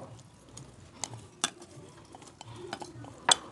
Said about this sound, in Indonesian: Ini aku pakai piring saja, tuang ke piring seperti ini.